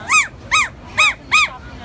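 A human voice imitates a dog with four short, sharp yaps, loud and close, spaced evenly about a third of a second apart.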